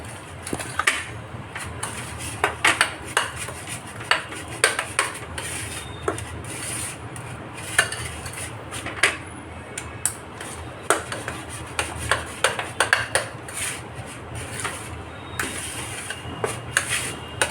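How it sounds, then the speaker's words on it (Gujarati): A spoon mixes shrikhand with cream and powdered bura sugar in a bowl, giving close, steady scraping and soft clinking strokes that repeat throughout without pause. "હવે આ બધાને જ હું મિક્સ કરી લઈશ."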